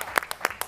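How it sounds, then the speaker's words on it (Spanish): A short patter of audience applause for a father on an Argentine television show, a few scattered claps in a quick uneven rhythm, fairly faint and sparse rather than a full ovation. "Muy bien, aplauso para el papá"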